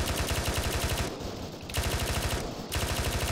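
Sustained automatic gunfire in ArmA 3, long rhythmic machine-gun bursts broken by two short pauses, loud and close with no talking.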